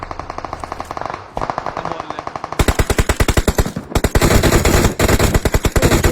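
Rapid automatic gunfire from the mobile battle game PUBG Mobile in a team deathmatch, loud and close, with fast bursts that pause briefly and then resume more intensely.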